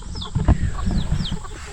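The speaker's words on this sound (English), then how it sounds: "Yeah, it's the clay rooster." A naked neck clay rooster calls out during a day of bank fishing, giving a few short, close clucking and crowing-like notes over soft outdoor background noise.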